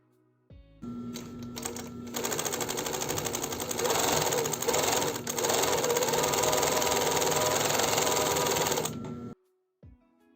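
PFAFF 260 sewing machine running a zigzag stitch, a steady fast mechanical whir and needle clatter that runs continuously for about eight seconds, close and loud, then stops abruptly.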